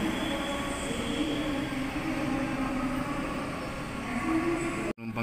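High-speed rail station platform ambience in Indonesia at holiday travel time, a continuous loud rumble of trains and crowd noise with a faint squeal of wheels, ending in a sharp clunk.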